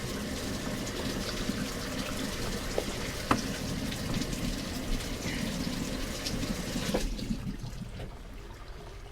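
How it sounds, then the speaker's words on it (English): Water runs steadily from a faucet into a sink, a continuous close splashing rush with a few small clinks, easing off near the end. "I'm turning on the water to the sink right now."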